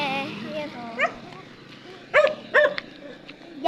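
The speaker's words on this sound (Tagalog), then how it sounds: "may tumatahol pa na aso" A dog barks a few times, sharp and moderately close, in short bursts near the end. A person talks over the barking throughout.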